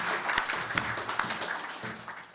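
Seminar audience applauding, a steady wash of many hands clapping at moderate level, with scattered sharper claps standing out through the whole stretch.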